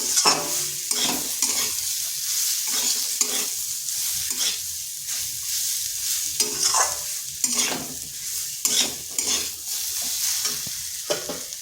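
Spices and boiled chickpeas fry in a pan, with a loud, continuous sizzle under frequent scraping stirs from a spoon, close up and with no speech.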